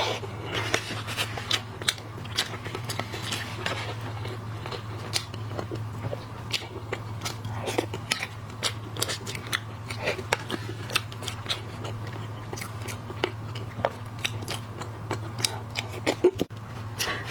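Cooked lobster and other seafood are cracked and chewed up close, with a steady run of sharp crunching clicks and snaps over a low background hum.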